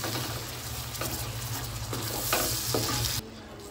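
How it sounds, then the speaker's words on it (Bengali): Onion, ginger and cashew paste frying for mutton korma in a pan, a loud continuous sizzle with steady stirring and scraping of the spoon close up, ending in a quieter tail, with no talk. "দিয়ে সমস্ত কিছু ভালোভাবে নাড়িয়ে নিচ্ছি।"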